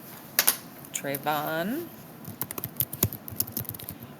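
Keys tapped on a computer keyboard in a short uneven burst following a brief spoken word, the clicks moderately close and crisp.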